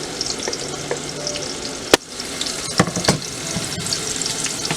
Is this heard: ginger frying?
yes